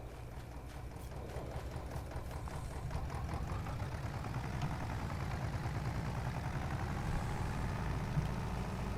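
A tractor engine in Farming Simulator 22 runs at a steady idle, a low continuous rumble with no break and no talking.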